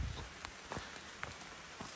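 Rain falling on the Appalachian Trail, a steady soft patter with scattered louder drops striking nearby surfaces, no voices present.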